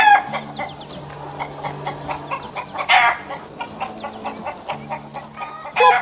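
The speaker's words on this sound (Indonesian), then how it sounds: "tumpukan rumput tinggi dengan ayam kecil yang sedang mencari makan di tengah rumput hijau yang menyenangkan." Small chickens foraging in tall green grass cluck in quick, busy bursts, close by, with a few louder squawks breaking through the steady chatter.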